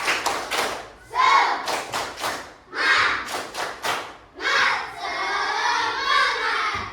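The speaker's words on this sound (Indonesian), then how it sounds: "Tepuk semangat" Schoolchildren perform a rhythmic spirit clap in a classroom, bursts of patterned clapping and thumps with shouted chants in between, ending in a sustained cheer.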